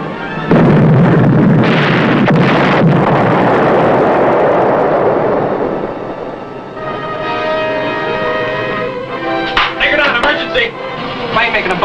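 Bombs dropped by an attacking aircraft burst near a submerged submarine on its bomb run: a loud, sustained roaring blast rumble fills the opening seconds, then fades into creaking, ringing metallic hull noises and scattered knocks.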